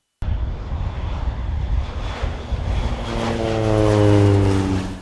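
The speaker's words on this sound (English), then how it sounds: "That plane is spraying holy water on those soybeans in Grant Parish" A propeller crop-spraying airplane passes low over soybean fields in Grant Parish, its engine drone starting abruptly, swelling louder and dipping in pitch as it passes close overhead.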